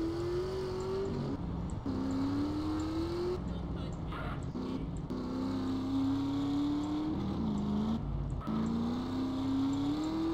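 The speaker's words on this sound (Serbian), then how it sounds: "Ovaj motor je prije bio glasan i sad je glasan." A motorcycle engine in the video game GTA San Andreas drones loudly and continuously, its pitch climbing in repeated rising sweeps that drop back at each gear shift. No one speaks over it.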